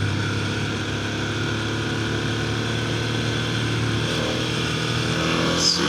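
A Ducati S2R1000 motorcycle engine drones steadily while riding, a constant low rumble with wind noise that holds fairly even throughout.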